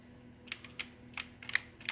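Keys clack sharply on a small computer keyboard salvaged from an ATM-style machine, wired as a skee-ball scoreboard controller; several quick irregular taps, close and fairly quiet over a steady electrical hum, with no voices.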